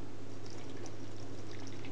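Water is poured steadily into a bowl of flour, yeast, oil and salt for Turkish bread dough, a soft continuous splashing stream, close and alone with no talk.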